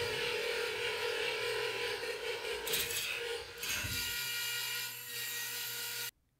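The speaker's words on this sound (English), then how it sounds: "that high-pitched grinding noise you're hearing is the two gears' teeth rubbing against each other in the edges." Gear teeth grinding and rubbing at their edges inside a LEGO shredder as the motor jerks and slips off the bottom gear, a steady high-pitched mechanical whine with ratcheting clicks that runs continuously before cutting off abruptly near the end.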